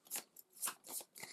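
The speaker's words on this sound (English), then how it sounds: "We shuffle these together." Fog cards from a board game are shuffled together, giving a series of soft papery swishes and riffles in short uneven bursts, close but faint, with no speech.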